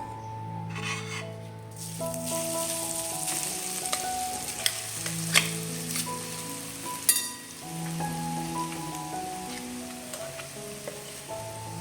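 Coconut powder frying in ghee over low flame, a steady close sizzle with stirring and scraping of a spoon against the pan, with a few sharper clinks along the way and no voices.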